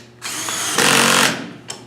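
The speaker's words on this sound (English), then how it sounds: "the drill will bring it back in" Cordless power drill driving a screw into a pocket hole during table assembly, a steady close whir that rises in pitch and loudness midway, then winds down, with a short click near the end.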